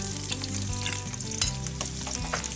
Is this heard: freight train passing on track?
no